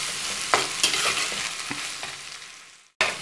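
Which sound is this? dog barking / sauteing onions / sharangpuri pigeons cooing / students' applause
sauteing onions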